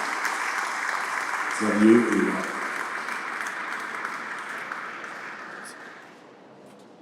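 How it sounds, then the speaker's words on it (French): Audience applause fills a hall at the inauguration of Henri Fabre's Canard seaplane at a Provence aeronautics museum, a steady, dense clatter that swells briefly as someone speaks, then gradually fades out. "Je crois qu'on peut l'applaudir lui aussi"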